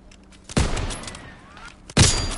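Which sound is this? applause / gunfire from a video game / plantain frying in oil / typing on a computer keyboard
gunfire from a video game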